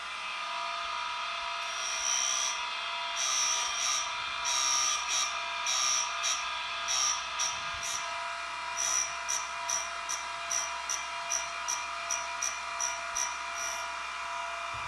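Deckel S1 tool grinder grinding a three-flute cutter with a back-relief and helical attachment: a steady mechanical hum overlaid by a regular series of bright, short grinding contacts, one pass after another, with no talking.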